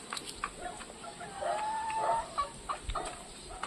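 Backyard chickens, including a hen that has just laid an egg, cluck softly and intermittently nearby, with faint bird calls and background noise.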